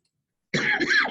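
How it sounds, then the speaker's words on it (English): One short rough cough, close and moderately loud, cuts in after silence and stands alone without speech. "I will try to stop coughing long enough to talk about this"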